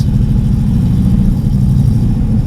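A Corvette engine runs steady and loud from inside the car, a heavy low rumble with an even throb and no revving, and nobody talks.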